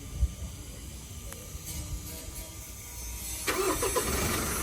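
A 2019 Mitsubishi Triton engine, started by remote, turns over and catches after a quiet stretch, settling into a low idle with hiss, a few faint clicks before it.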